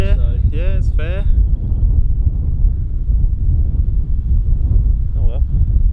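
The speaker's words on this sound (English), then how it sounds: "Look at that wind. That wind is not great." Steady outdoor wind buffets the microphone throughout with a constant low rumble, while a person speaks briefly at the start and again near the end.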